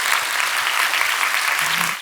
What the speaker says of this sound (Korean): 하나님께 영광의 박수 한번